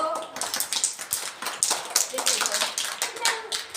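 A group of preschool children clapping in quick, uneven bursts in a classroom, with voices chattering alongside.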